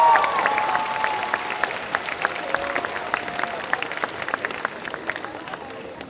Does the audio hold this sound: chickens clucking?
no